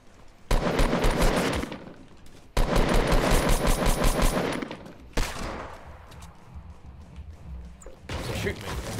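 Bursts of rapid automatic gunfire in the Fortnite Battle Royale video game, several loud sustained volleys separated by brief pauses, with sharper single shots and players talking over the action.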